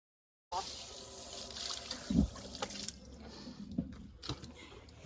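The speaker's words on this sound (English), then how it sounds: "I'm gonna stand up the hose, Timmy." A garden hose runs water during an outdoor wash of a Mini car, giving a steady close splashing trickle with a few brief louder splatters.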